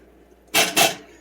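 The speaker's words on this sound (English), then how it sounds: "I'm going to rinse this out with a little extra water" Water splashes into a pan to rinse out leftover Better Than Bouillon paste, two quick, close splashy bursts in an otherwise quiet kitchen.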